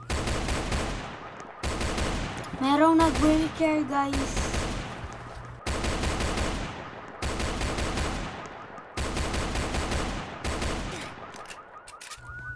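Bursts of rapid gunfire in the Roblox game Brookhaven crackle in repeated volleys with brief pauses between them, and a voice speaks briefly in Tagalog over one stretch.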